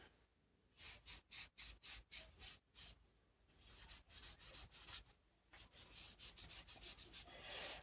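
A rag rubs finish into a ball peen hammer in repeated quick strokes, a dry rhythmic swishing that comes in bursts with brief pauses, close and fairly faint.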